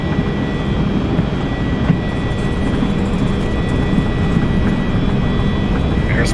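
An ERJ-175 jet in X-Plane 11 rolls for takeoff with engines at takeoff power, a loud, steady roar that holds without letup throughout.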